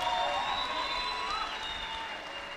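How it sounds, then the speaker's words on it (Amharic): A church congregation at a service led by Prophet Deresse Lakew applauds the Lord with steady, sustained clapping that fills the room evenly from start to finish. "ለጌታ አጨብጭቡ አጨብጭቡ አጨብጭቡ"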